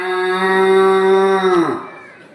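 A human voice imitates a newborn calf mooing for its mother during a humorous kirtan, one long sustained loud moo with rich harmonics that bends downward and trails off near the end.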